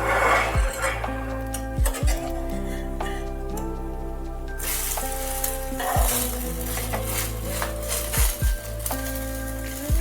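A semolina vegetable pancake sizzles in a hot pan as it is slowly flipped, with steady frying hiss, a few metallic clinks and scrapes of a utensil against the pan, and a low hum underneath.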